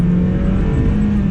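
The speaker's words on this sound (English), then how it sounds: "you can hear that engine a little more" A 1999 Mazda Miata NB engine accelerates through curves with the top down, a steady, loud, close drone with a strong tonal hum holding throughout, no voices.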